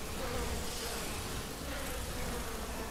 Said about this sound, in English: I'm wrestling with bees.